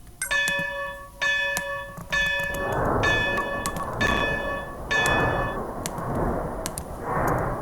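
Locomotive bell on a Shay engine in the game Trains And Railroads, ringing in a steady series of bright dings about once a second over a rumbling, chuffing engine bed that swells in regular pulses.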